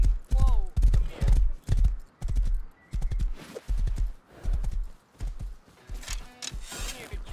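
Horse hooves clip-clop in the video game Rust in repeated bursts, mixed under frequent close voices talking over game chatter.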